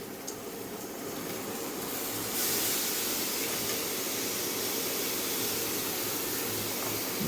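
Leafy helencha greens dropped into a hot pan set off a loud, steady sizzling hiss that swells suddenly partway through and continues close up without pause.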